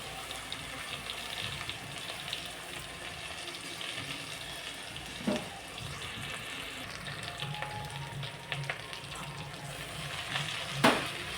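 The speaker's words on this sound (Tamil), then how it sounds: "நல்லா வதக்கிக்கலாம்" Steady oil sizzle of drumstick leaves sautéing in a pan, with occasional stirring clicks and scrapes, close and continuous with no talking.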